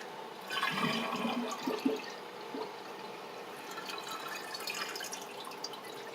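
Water rushes and gurgles through a leaking toilet tank during a seal test, a steady watery flow with a few louder sloshes early on.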